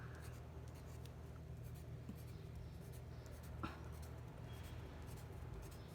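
Pencil drawing spiky lines of a succulent cactus on paper: very faint, quiet scratchy strokes against a low hum, with one slightly sharper scratch partway through.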